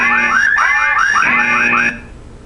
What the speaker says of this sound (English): Press enter, alarm will go off.